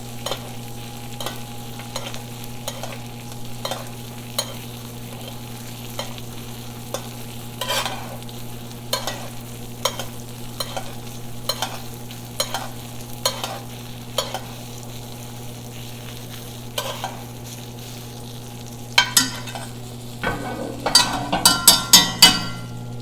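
A bone-in ribeye sears in a hot pan with a steady low sizzle under a constant hum, punctuated by regular metallic taps and clinks, ending in a quick flurry of clattering utensil sounds.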